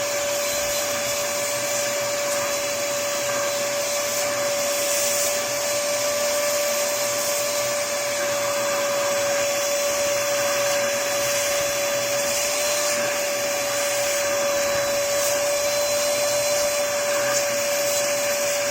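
Steady, loud suction roar of a vacuum drawing heavy dirt out of the parts of a Philips FC87 series robot vacuum during cleaning maintenance, with a constant high whine running unbroken throughout and no talk.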